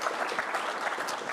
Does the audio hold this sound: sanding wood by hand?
no